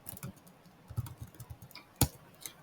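Someone types a code comment into a Python program on a computer keyboard, producing soft, uneven key clicks close by with one sharper louder tap near the end, and no talking.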